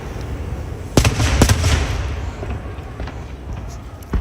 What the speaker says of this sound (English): Then there's another age of fireworks at the back of their heads.